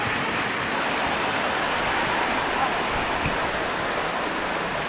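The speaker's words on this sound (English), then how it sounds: "Yeah, it is raining," Heavy rain pouring down at a wildlife rescue center with crocodile enclosures, a dense, unbroken hiss that stays at one level throughout with no voices.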